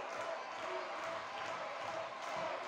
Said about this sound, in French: applaudi par son public